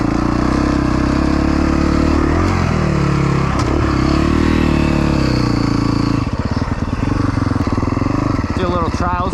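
A four-stroke trials motorcycle rumbles loudly up close, its engine note rising and falling through revs before settling into a lumpy, pulsing idle.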